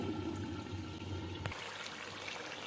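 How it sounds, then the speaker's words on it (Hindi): Boiling water pours into a pot of mutton and turnip curry, a continuous splashing gush that stops abruptly partway through, leaving a softer simmering hiss with no talking. "अब हम इसमें डाल देंगे उबलता हुआ थोड़ा सा पानी"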